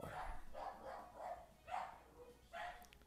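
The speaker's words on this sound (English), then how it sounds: "I apologize if you can hear my dogs in the background." Dogs bark repeatedly indoors, about six rough barks in an uneven rhythm that sound somewhat distant and muffled, with no other sound between them.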